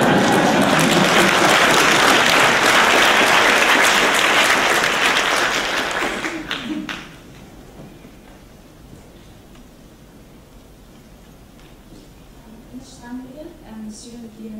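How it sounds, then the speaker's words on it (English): Lecture audience bursting into loud, sustained applause for about six seconds, then fading out, leaving a quiet room with faint shuffles and brief clicks. "You can clap if you want to."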